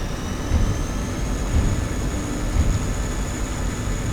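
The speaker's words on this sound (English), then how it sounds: "I'm getting the gear down and throttling up" A MiG-21 in the DCS flight simulator with gear down as the jet engine throttles up, giving a steady, loud, broadband roar with a thin high whine held throughout and no talk.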